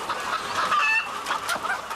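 Hens in an egg production farm clucking steadily, a busy overlapping chorus of many birds at moderate volume with no talk over it.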